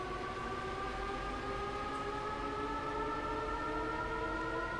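A passing train in the rail game Train Sim World gives a steady, tonal drone that holds evenly throughout at moderate distance, with no talking.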